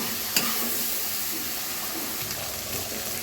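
Tiny dried shrimp frying in a pan, a dense steady sizzle with a sharp knock early on and light scraping stirs throughout.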